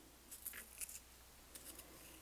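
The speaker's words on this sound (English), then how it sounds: "You put your pencil in and sharpen it," A Blackwing hand pencil sharpener grinds and scrapes as a pencil is turned in it, producing faint, close bursts of crisp shaving sounds with short pauses between strokes.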